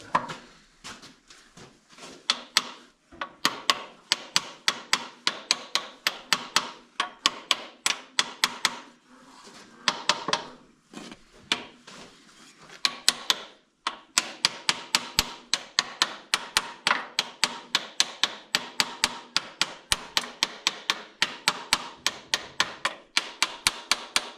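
A hammer taps metal parts of a YuMZ tractor gearbox repeatedly in steady, rhythmic strikes, with short pauses between runs of blows, close and sharp.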